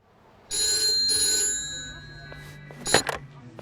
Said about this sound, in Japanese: 俺宛てに電話がかかってきた